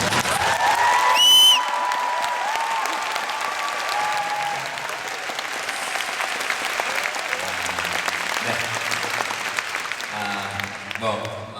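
Sustained audience applause fills a lecture-concert hall in Los Angeles, loud and steady for the whole stretch, with a few whistles and cheers near the start and a voice breaking in toward the end.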